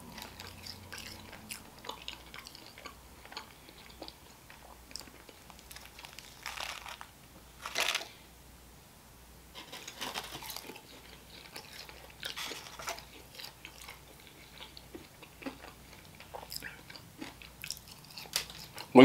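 Extra well done Parmesan fries from Wingstop get bitten and chewed close to the mic, with repeated crisp crunches and wet mastication sounds in irregular bursts and a louder crunch partway through, alone without talk.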